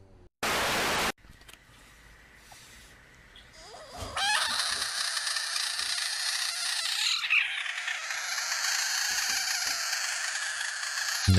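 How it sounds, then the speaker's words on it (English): Frog croaking in a game clip, a rough repeated call that runs steadily for several seconds after a short loud burst, with no talk over it. "No cap? That's what that frog sounds like?"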